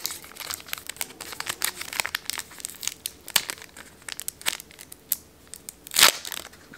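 Packaging of a Pokemon Celebrations Elite Trainer Box being opened up close, with continuous crinkling and crumpling of plastic wrap and cardboard in quick irregular bursts, a louder tearing rustle near the end, and no voices.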